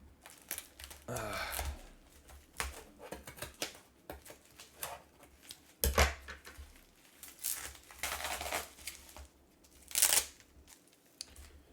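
Scissors snip and tear through packing tape on a cardboard box, with intermittent crinkling and scraping bursts, close and fairly quiet.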